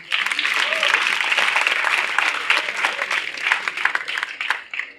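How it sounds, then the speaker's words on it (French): A crowd at a conference on the metaverse applauds steadily for about five seconds, a dense wash of many hands clapping that tapers slightly at the end. "On peut applaudir aussi"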